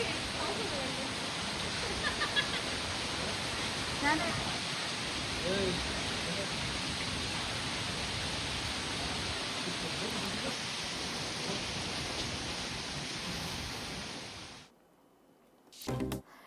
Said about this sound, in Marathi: खालापूर तालुक्यात मुसळधार गारांसह पाऊस पडतोय